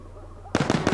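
An incendiary grenade goes off in Insurgency: Sandstorm, a sudden loud burst followed by a quick string of crackling pops after a quiet lead-in.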